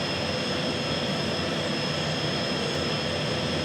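A small airplane engine drones steadily and fairly loud on a landing approach to a runway, a constant broadband roar with no speech over it.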